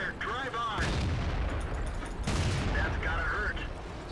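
Tank cannon shots in the World of Tanks video game, two heavy booming blasts with rumbling tails, loud and close, amid dense battle noise and whining engine tones.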